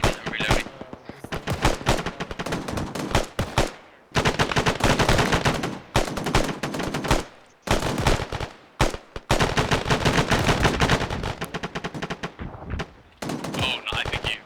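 Loud, close bursts of automatic fire during an airsoft milsim field exercise, rattling in long rapid strings with brief pauses between volleys, and occasional radio-style voices between bursts.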